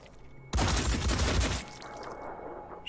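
A loud burst of sustained automatic gunfire in the turn-based tactics video game Phoenix Point lasts about a second, then trails off into quieter ambient game sound.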